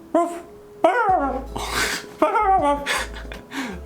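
A dog whimpers and whines in high, wavering cries, with several short bursts close by and breathy snorts between them.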